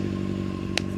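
A motorcycle engine idles steadily at about 1,500 rpm while running very rich, a continuous low rumble with one brief sharp click near the end, close and alone.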